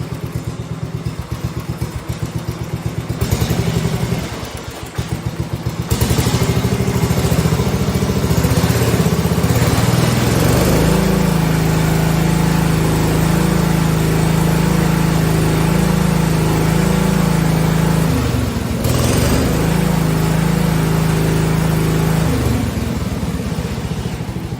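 A 1971 110 engine converted from magneto to battery ignition idles with a rattly buzz, then throttles up into a loud, sustained high rev that holds for a long stretch, dips briefly and climbs again, close to the microphone.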